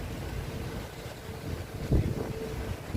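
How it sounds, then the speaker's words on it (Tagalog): Strong wind from a sandstorm in Dammam, Saudi Arabia roars steadily as broad microphone buffeting, with a brief heavier gust near the end. "Yan guys, sobrang lakas ng hangin"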